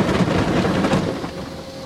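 A D&S Odyssey car wash sprays rinse water with a dense, hissing rush over a low pump hum, loud and close throughout, without voices.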